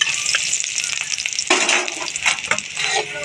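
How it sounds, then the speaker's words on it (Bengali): Dry red chilies and chopped garlic fry hard in hot oil for a village-style greens recipe, a steady close sizzle that swells with bursts of crackling as they are stirred. "শুকনো লঙ্কা রসুনটা খুব লালচে করে ভেজে নিয়েছি"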